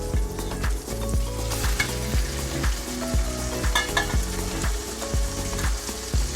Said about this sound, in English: Okay, our pan is ready to go. We'll go ahead and place that fillet in.